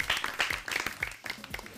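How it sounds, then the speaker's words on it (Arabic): Applause for a nine-year-old boy named Khalid, a short burst of rapid, fairly close hand clapping from a small group, with no talking. "يلا صفقوا حق خالد"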